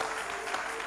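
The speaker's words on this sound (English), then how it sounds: "Somebody, did you clap?" A church congregation claps, a brief steady burst of many hands that is soft and somewhat distant, with a faint tonal hum beneath.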